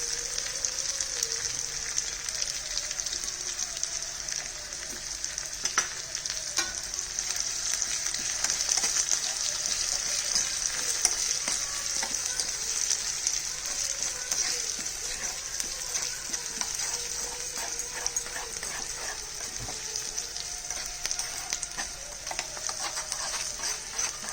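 Dried red chillies and curry leaves sizzle steadily in hot oil as a tempering, a continuous crackling hiss with scattered pops and no talking.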